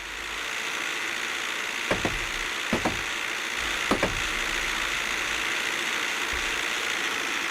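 In the video game Forest Rail, a train engine with a doubled sound hums continuously while a few short knocking clicks break through in small clusters.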